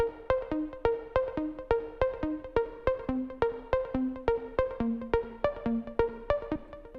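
Saw wave synth arpeggiator in Ableton Live plays fast, evenly spaced plucky notes in a bouncy repeating pattern, moderately quiet and steady with shifting pitches, with no talking.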